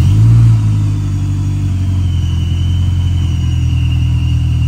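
Honda S2000 engine with a single exhaust, heard up close and loud as a steady, deep idle-to-rev rumble with a brief swell at the start, holding a continuous droning note throughout with no talking.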